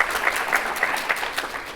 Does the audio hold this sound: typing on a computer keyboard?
no